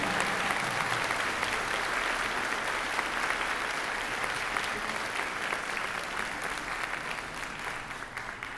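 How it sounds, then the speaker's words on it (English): A school auditorium audience applauds after a high school symphonic band's Memorial Day concert, broad sustained clapping from many people that holds steady and then slowly thins toward the end. "Another final applause."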